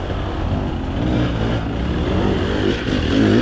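Four-stroke enduro motorcycle engine revving steadily on a hard enduro trail ride, a continuous loud drone that swells slightly near the end, with no talk over it.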